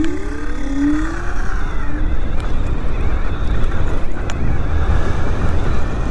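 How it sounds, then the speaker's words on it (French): A Dualtron Thunder III electric scooter's motor whines in rising pitch sweeps as it accelerates during a ride, under heavy, constant wind rumble against the microphone. "je vais vous laisser écouter les bruits du moteur"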